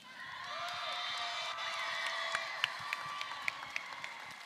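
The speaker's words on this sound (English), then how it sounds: "one more round of applause for your number one alliance" Sustained applause and cheering from a large arena crowd at a FIRST robotics district championship alliance selection, a dense continuous wash of clapping with a few sharp claps standing out near the end.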